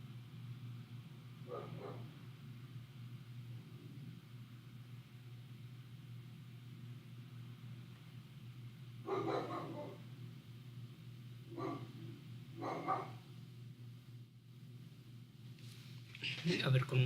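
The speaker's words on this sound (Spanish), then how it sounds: "Uy, ya empezó a ladrar." A pet dog barks in short bursts, a few separate yips and barks spaced out over a low steady hum, fairly close and moderately loud.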